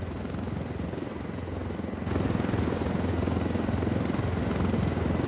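A helicopter in the video game Ghost Recon Wildlands flies with a steady, loud rotor thrum and engine whine that grows stronger partway through, continuous and close, with no speech.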